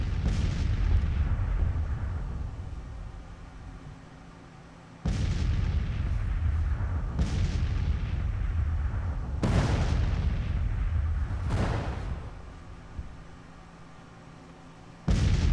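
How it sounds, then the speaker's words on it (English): Civil War artillery fires in the strategy game Grand Tactician: The Civil War, a series of about four heavy booms at irregular intervals that each fade into a rumbling tail over a constant low battlefield din. "I think it's the first assault I'm going to have that's got an artillery prep going in with it"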